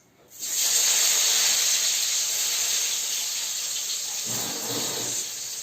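Tomatoes dropped into hot oil with dried chilli, bursting into a loud close hissing sizzle that starts abruptly and slowly softens, with a brief stirring scrape near the end.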